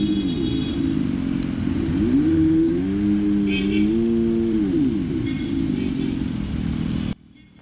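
A Revolt RV400 electric motorcycle plays a synthetic engine-like hum with wavering, gliding pitch that rises and falls steadily for several seconds, then cuts off abruptly.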